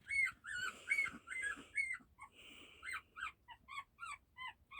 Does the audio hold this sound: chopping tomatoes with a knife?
no